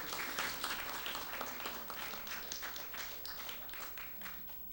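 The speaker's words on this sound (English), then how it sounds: "Give him another round of applause" An audience at a housing development contract signing gives a round of applause, a fairly soft, even patter of many hands from a distance, tapering slightly toward the end.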